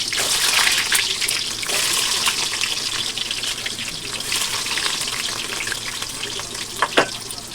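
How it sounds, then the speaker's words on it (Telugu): Sliced onions frying in hot oil with fenugreek seeds for a Nellore fish curry with raw mango, a steady, close, bright sizzle throughout, with a couple of sharp utensil clinks near the end. "ఉల్లిగడ్డ అయితే మనకు మంచిగా వేగాలి."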